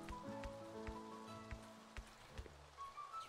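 Steady rain in the video game Staxel, a soft continuous patter with scattered droplet ticks and plinks, moderately quiet and heard alone without talk.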